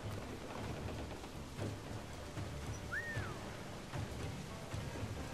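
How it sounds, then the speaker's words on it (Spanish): Steady hiss of rainfall in the video game Assassin's Creed 4 Black Flag, with a low rumble underneath, fairly quiet and continuous, with a brief whistling tone partway through. "La lluvia, la lluvia."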